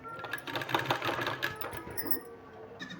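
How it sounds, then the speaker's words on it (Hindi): Sewing machine stitching a 2-inch-wide fabric strip onto a sleeve, a close, rapid mechanical rattle in short bursts with brief pauses between runs. "इसमें इस तरह से रख के हमको सिलाई लगा लेना है।"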